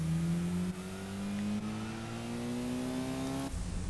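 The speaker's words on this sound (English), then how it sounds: "That's rather a lot of wheel spin." A car in the Gran Turismo 4 racing game, with a VTEC engine, revs hard during heavy wheel spin, its engine note climbing steadily and loudly without a break, with no voices over it.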